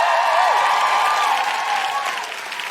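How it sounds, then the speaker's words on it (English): Applause from a live audience at Vicar Street in Dublin greeting a musical guest, a bright clapping wash with a sustained tonal sound riding over it, tapering slightly toward the end. "can we have an enormous round of applause for our incredible musical guest,"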